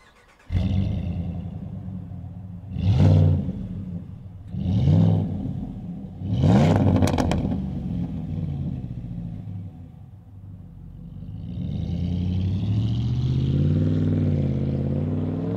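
A Ram 1500 pickup with an MBRP stainless bolt-on exhaust and dual-wall tips: three sharp throttle blips rise from a deep idle one after another, then the engine settles into a steady, throaty rumble, close and alone.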